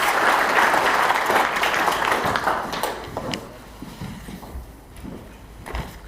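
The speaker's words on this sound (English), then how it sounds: "Give him a round of applause." Conference audience applauding, loud and dense at first, then thinning and fading into scattered claps and shuffling over the last couple of seconds.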